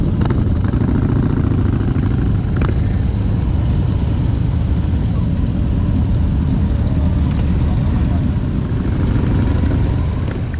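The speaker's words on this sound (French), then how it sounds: "bikers, bikeuses, ainsi que tous les passionnés des motos custom, ça y est, la balade pour Enzo démarre" Many custom motorcycles in a large convoy setting off slowly together on a group ride, a loud continuous rumble of idling and pulling engines with occasional clatter, steady and close throughout.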